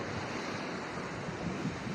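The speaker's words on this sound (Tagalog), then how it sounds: "medyo malaki yung alon" Fairly large sea waves wash against a fishing-boat shore with a continuous soft, broad surf rush, some wind in the background and no voices.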